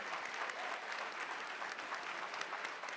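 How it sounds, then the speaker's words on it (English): At a mayor's business luncheon, a room of attendees applauds St. Louis Mayor Tishaura O. Jones with dense, continuous clapping that holds steady and close throughout. "Let's give her a round of applause"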